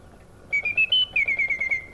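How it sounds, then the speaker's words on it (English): A clear, close whistled tune from a robotic toy bird in a cage, a run of pulsing, slightly warbling notes after a quiet start. "it's now whistling, singing a tune."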